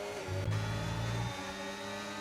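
Race car engine in the F1 25 racing video game, a steady mid-pitched drone that swells briefly with a revving pitch rise before settling back, moderately loud and continuous with no talk.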